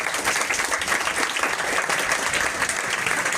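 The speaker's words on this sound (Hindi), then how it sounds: "तो एक ज़ोरदार तालियां।" Audience at a school award ceremony applauding, a dense steady burst of clapping from many hands filling the room, fairly loud and continuous without talk.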